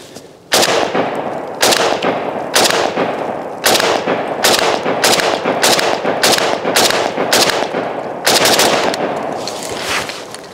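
Ten loud shotgun blasts fired at rubber self-healing targets outdoors, spaced in an irregular rhythm roughly a second apart, each a sharp crack with a short decaying tail, no talking between shots.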